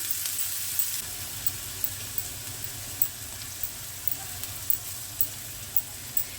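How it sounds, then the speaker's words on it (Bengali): Finely chopped onions frying over a low flame for a drumstick masala, a soft continuous sizzle with light periodic stirring clicks, close but quiet, without talk. "পেঁয়াজটা আমি একটু নেড়ে নিই"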